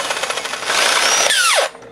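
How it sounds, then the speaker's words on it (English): A cordless drill bores into a baseball bat, a loud close whine that rises as the bit bites, then spins down and stops abruptly after about a second and a half. "This is how hard it is to drill through one of these."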